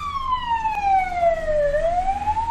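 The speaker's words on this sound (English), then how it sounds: "That was a fire engine" A fire engine siren wails past in a single long descending sweep that rises again near the end, loud and clear over faint road noise.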